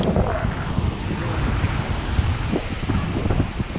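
Wind buffets the microphone over a steady wash of sea surf at a black sand beach, a continuous rough roar with a faint voice now and then.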